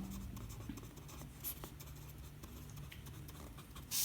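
Pen or pencil scratches on paper as a math solution is written out by hand, a quiet, close run of short strokes with no one speaking.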